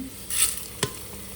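Lentils frying in oil for mango chitranna, with a short burst of sizzle and scraping followed by a single sharp clink of a spoon against the pan; no voices.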